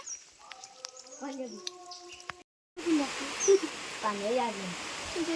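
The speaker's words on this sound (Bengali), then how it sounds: "আবার বৃষ্টি চলে এসছে" After a brief pause, a steady hiss of falling rain sets in, with a person talking over it.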